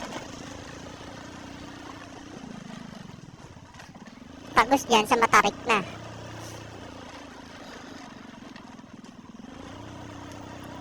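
A single motorcycle on a steep one-way shortcut road between Meycauayan, Bulacan and North Caloocan, its engine droning steadily and swelling in a burst of loud pulses as it passes close, with someone talking throughout.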